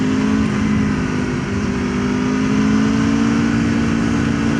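Aprilia RSV4 Factory sport motorcycle ridden on a road or racetrack, a loud sustained engine howl holding a fairly constant pitch, with wind rushing around it and no voices.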